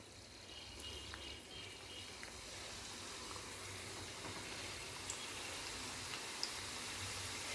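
Maida sweet batter frying in hot oil, a faint, even crackling hiss with a few sharp pops, steady throughout and heard from a moderate distance.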